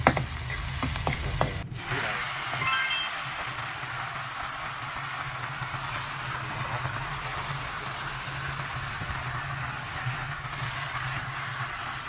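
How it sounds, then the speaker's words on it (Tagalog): Continuous loud sizzling of fish frying in a pan on a butane stove fills the whole stretch, with a sharp crackle near the start and a steady hiss after. "Lutuin ko sa iprito."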